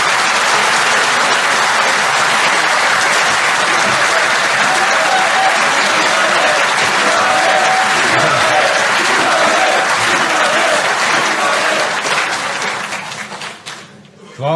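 Sustained loud applause from a crowd at a political convention in Belgrade, dense clapping with voices mixed in, fading away near the end.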